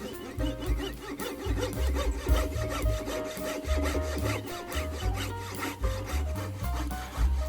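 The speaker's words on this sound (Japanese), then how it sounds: "糸のこで切っていきます。" A fret saw rasps steadily through the floor plate of an old Katsumi KiHa 82 model train car, a close, continuous back-and-forth sawing with even rhythmic strokes throughout.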